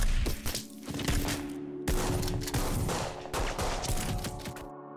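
Gunfire in a war scene from the 2016 film The Mountain II, with soldiers shooting at ISIS fighters: dense, loud volleys of rapid shots and cracks rolling almost continuously, with no speech over them.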